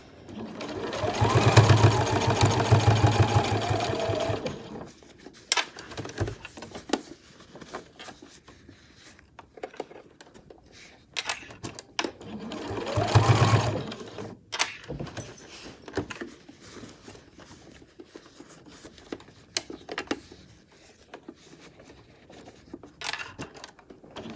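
A sewing machine stitches binding through many thick layers of a backpack, running in two sustained loud bursts with quieter handling clicks and rustles between them.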